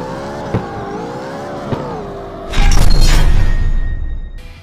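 A racing car engine in the mobile game Kark Street revs and accelerates loudly, a couple of sharp clicks in the steady drone, then a sudden roaring surge with a booming burst before it fades slightly.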